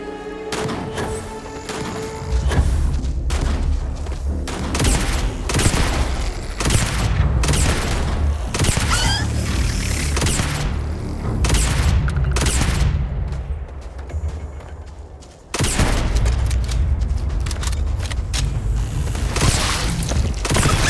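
Heavy gunfire in Starfield: Shattered Space, with dense volleys of shots and booms that keep up almost without pause, broken by a brief lull before another loud barrage.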